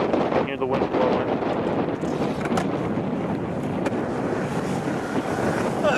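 Strong wind roaring steadily into the microphone outdoors at a skate spot, a constant loud buffeting rush that fills the whole stretch.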